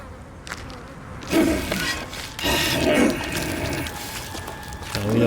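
Flies buzz around beached whales in the VR game Lies Beneath, a wavering insect drone that rises and falls in loudness, mixed with other game noise and muffled voice-like sounds.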